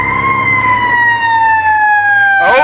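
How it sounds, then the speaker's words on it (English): A loud, close fire truck siren wails with a slowly falling tone, followed at the end by a brief burst of rumbling noise. "Okay, so that's a fire truck,"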